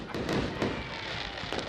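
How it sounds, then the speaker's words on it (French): Fireworks for the New Year crackle and pop in quick bursts, a dense, continuous rattle of small bangs with a few sharper cracks, moderately loud with crowd noise underneath. "Des feux d'artifice pour marquer le passage à la nouvelle année"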